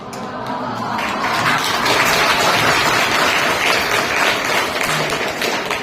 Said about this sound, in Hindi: ये तुम्हारी तालियां मुझे और भी मुझे हिम्मत देती है मुझे यहाँ खड़े रहने के लिए।